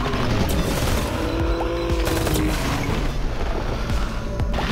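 Gunfire from a first-person shooter game, Time Recoil, in beta: dense, continuous rattling bursts and booms that fill the whole clip, loud and close, with no talking.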